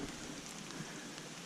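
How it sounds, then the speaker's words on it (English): Rain falling on trees in a canyon, a steady soft patter of drops spread evenly across the clip, fairly faint and continuous with no voices. "Guess it's because of all the raindrops hitting the trees."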